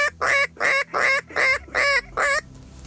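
Waterfowl flying over a marsh at dusk during a duck hunt, six loud honking calls in a steady rhythm, close and clear, fading into quiet at the end, with no talk.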